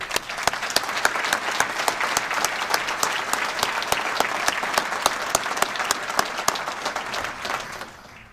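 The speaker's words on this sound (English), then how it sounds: "We applaud you." A crowd applauds steadily at a county State of the County address, dense clapping holding at full strength for several seconds before cutting off abruptly.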